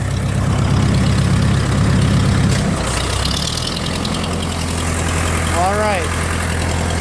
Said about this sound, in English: The tractor is now running on diesel.